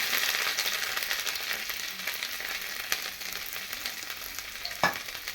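Ginger paste hisses in hot oil already tempered with cumin seeds and a dried red chilli, a steady close sizzle broken by a couple of sharp clinks of a spoon against the pan.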